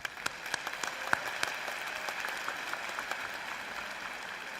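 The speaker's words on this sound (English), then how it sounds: "Let's give them a round of applause." Audience applause at a college commencement ceremony, a steady wash of crowd clapping heard from a distance with a few sharper nearby claps standing out.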